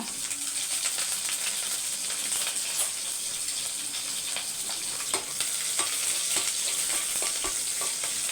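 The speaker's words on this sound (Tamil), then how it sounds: "இப்போ எண்ணெய் காஞ்சிருச்சு சோம்பு போட்டுக்கலாம்" Fennel seeds, a bay leaf, green chili and curry leaves crackle in hot oil, a constant close hiss with occasional sharp pops and spatters and faint stirring, no speech.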